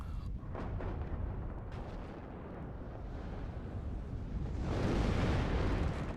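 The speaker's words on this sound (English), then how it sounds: "he is blasting this area with artillery" Artillery barrage in the WARNO real-time strategy game, a continuous rumbling wash of distant explosions with scattered sharper blasts that swell louder toward the end.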